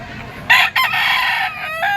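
A Boston sweater yellow-legged gamefowl rooster crows once nearby, a loud drawn-out call that breaks off briefly before carrying on, with farm ambience behind it.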